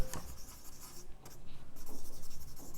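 Marker or chalk scratches across a board as an equation is written, a close rhythmic rubbing that grows in steady strokes, with no talk.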